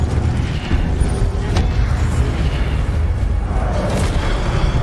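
Incendio, the fire spell in Hogwarts Legacy, erupts as a loud, continuous roaring blast of flame with booming low rumble that persists for several seconds.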